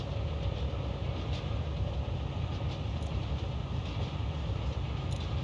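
Train in the video game Forgotton Anne: a loud, steady rumbling drone of a running train or idling engine holds evenly throughout, with a couple of faint high ticks and no voices.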